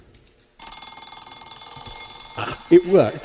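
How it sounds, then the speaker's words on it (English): An alarm clock rings with a steady, bright electronic trill that starts abruptly and continues for several seconds, then laughter and a voice speaking briefly break in over it. "a sound that is desperately familiar to most of us, and of course it's the sound of the alarm clock."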